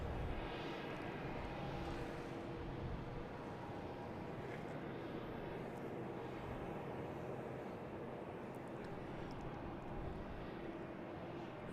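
An Etihad airliner at Boston Logan airport produces a faint, distant, continuous jet roar and rumble that holds steady throughout, with no talking.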